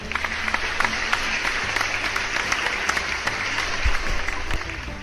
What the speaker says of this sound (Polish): I dla Was wszystkich wielkie, ale to wielkie brawa.